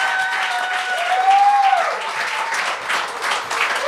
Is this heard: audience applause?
yes